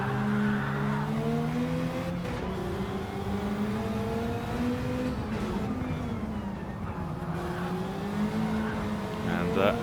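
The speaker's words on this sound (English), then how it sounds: "Jammy drifting again" Race cars in a racing video game drift through a turn with squealing tires and droning engines, the whine wavering steadily under an excited commentator's continuous talk.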